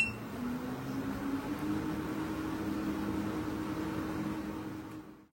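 A WalkingPad R2 folding treadmill's motor runs steadily with a low, even hum and faint whirring belt noise, close by and alone for about five seconds before stopping.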